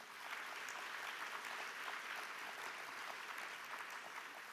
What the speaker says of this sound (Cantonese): 大家可唔可以俾啲掌聲我哋家長先？